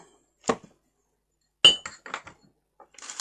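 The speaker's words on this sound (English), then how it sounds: "That's a mirror plate that I've done that you stand your candle on." Glass mirror plate for standing a candle on, handled so it clinks and taps in a few short, close bursts separated by quiet, with no talk.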